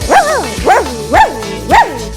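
Four loud, close dog barks in a steady rhythm, each a sharp yelping bark with a slight whine, no talking.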